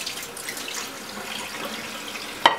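Cold tap water running over raw liver as it is rinsed, a soft continuous splashing close by that ends in a brief louder splash.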